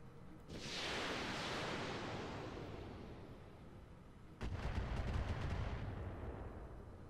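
Gunfire strikes buildings in the video game Flashpoint: a long roaring blast that slowly decays, then a second heavy burst of rapid repeated shots with a deep rumble.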